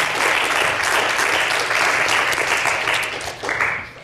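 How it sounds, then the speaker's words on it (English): Sustained audience applause for film director Liu Jian at an art and film conversation event, a dense steady wash of many hands clapping that dips briefly near the end before swelling again. "director Liu Jian, who I think deserves another round of applause"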